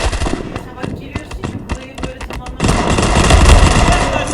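Rapid bursts of gunfire from a weapon in the World War 2 video game, sharp shots in quick runs that give way to a louder, denser stretch of firing, with someone talking over it.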